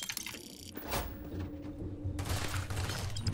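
Gunfire in the Starfield video game comes as a few scattered shots and a short burst amid game effects, moderately loud with no speech.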